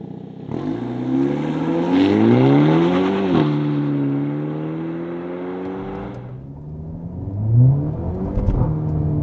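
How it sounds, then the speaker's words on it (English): A 2024 Hyundai i30 Sedan N launches hard in sport mode, its engine note rising loud and close through successive gears with a brief dip at each shift and a loud burst near the end. "I'm gonna hit N grin shift and I'm gonna stand on the throttle"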